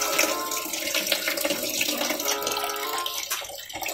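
Water runs steadily from a tap into a sink during washing, a continuous splashing hiss with a brief dip near the end.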